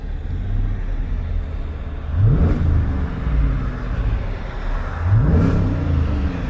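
A car engine with a new aftermarket exhaust revs twice, each rise to a throaty peak and back to a steady idle, moderately loud and fairly close with no talk.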